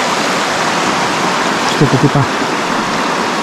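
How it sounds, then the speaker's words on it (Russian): The Psezuapse mountain river in snowy hills near Lazarevskoye, Sochi, rushing as a constant broadband hiss and roar close by, with a brief spoken phrase midway. "просто дать вам насладиться красотой и послушать горную реку"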